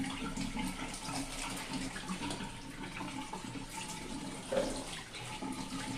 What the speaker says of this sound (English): So we'll wash it out just to make sure that